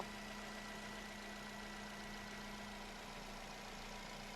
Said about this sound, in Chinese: 发动机完美启动，听这声音